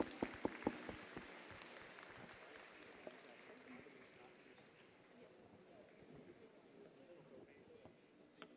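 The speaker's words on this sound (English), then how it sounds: "A big applause, please." Audience applause at a space convention welcoming a speaker to the stage: a few sharp, close claps at the start, then a softer, sustained ripple of clapping that fades lower toward the end.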